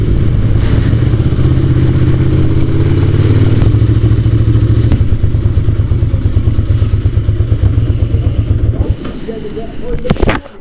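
A Ducati motorcycle engine running on full choke, revving high and loud with a steady throbbing drone close by, then dropping off near the end.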